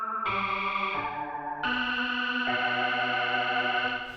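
A Logic Pro Alchemy synth voice set to a sine wave plays sustained notes with detune, stepping between pitches in a smooth, chorused and slightly distorted tone with no talking.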